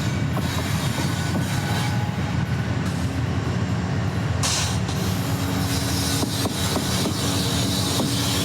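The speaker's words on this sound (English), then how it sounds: "KCS 5021 leads the train toward the hill." A freight train led by KCS 5021, a GE ET44AC locomotive, rolls past close by through hilly country, with loud continuous wheel and rail noise, clattering cars and brief squeals.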